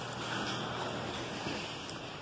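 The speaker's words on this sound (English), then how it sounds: "it is pouring down outside." Heavy rain pours down outside in a dense, steady broadband wash, heard from indoors and fairly faint with no voices.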